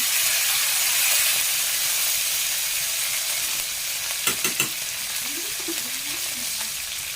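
Curry leaves and dried red chillies frying in oil for aviyal, a steady hissing sizzle with a few sharp pops and brief crackles partway through, no talk.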